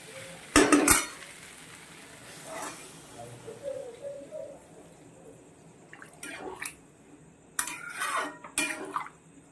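Water is poured into chickpeas frying in a pan, setting off bursts of loud splashing sizzle. Utensils clatter against the pan between the bursts and a voice speaks in the background.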